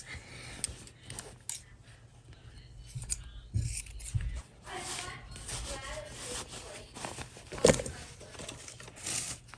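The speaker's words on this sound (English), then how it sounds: "you just cut a little bit at the end where the corner that you sew here. Just snip a little bit right there." Scissors make a few soft snips at the sewn corner of a cotton-polyester pleated face mask, faint and partly masked by quiet talk and fabric rustling.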